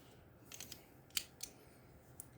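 Several quiet, crisp snips of small multi-tool scissors cutting, irregularly spaced, close to the microphone against a faint background hum.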